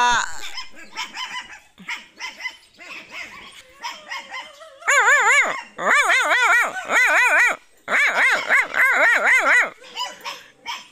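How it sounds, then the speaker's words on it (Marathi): Several household dogs bark repeatedly in loud, close bursts, with yips and whimpers between volleys; the barking grows denser and louder midway and continues almost without pause to the end. "परेशान करून सोडला आज मी यांना. असंच भुंकत बसा."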